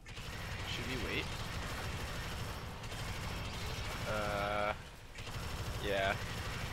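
Automated sentry gun in an alien-swarm shooter keeps up steady rapid fire through the whole stretch, with mechanical clatter and several people talking over it.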